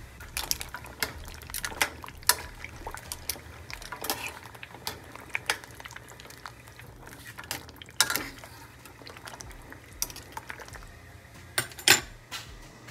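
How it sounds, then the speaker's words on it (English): Food being stirred in a pot during home cooking, with repeated scraping clinks of a utensil against the pot and soft liquid sloshing, close and fairly quiet, with irregular louder knocks scattered throughout. "I'm gonna stir it up so it'll stick."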